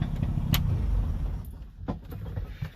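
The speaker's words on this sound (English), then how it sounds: "Turn the key off." A Subaru 360 with a two-stroke engine is keyed off after a drive, its brief idle running under a faint key jingle before cutting out into quiet, followed by a couple of small clicks.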